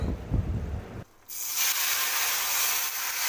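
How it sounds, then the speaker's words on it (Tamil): Asafoetida dropped into hot oil for a tamarind kuzhambu bursts into a loud, steady hiss and bubbling froth after a brief quiet pause, close and continuous with no talk. "பாருங்கள் அது எண்ணெயில் சேர்த்துட்டோன்னே அது அப்படியே பொங்கி வருது"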